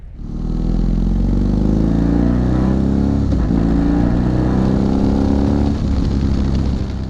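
BMW R18 Classic motorcycle with its big boxer engine running steadily, a loud, close, continuous deep rumble with layered harmonics holding even throughout, no talking.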